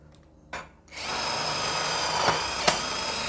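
A Mollar 12 volt impact driver spins at speed 1, a steady close high-pitched whir starting after a brief blip, with a couple of sharper clicks toward the end and no impacting.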